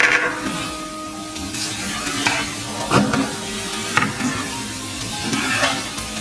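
Ingredients sautéing in butter in a pan for an idiyappam stir-fry, stirred with repeated scraping and clinking strokes over a low steady sizzle, close and fairly loud, with no speech.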